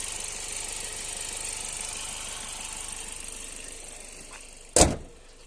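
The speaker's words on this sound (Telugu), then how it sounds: "ఇంజన్ సౌండ్ మాత్రం ఇట్లా స్మూత్ ఉందండి చూసుకోవచ్చు" A 2020 Hyundai Creta S with a 1.5 diesel engine idles with a steady, smooth hum for several seconds. One sharp knock near the end stands out against the even engine note, and no one speaks.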